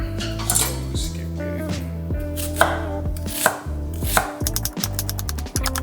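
Knife chopping onion, tomatoes and cilantro on a cutting board, a steady run of sharp close taps with a few clinks of utensils, no talk.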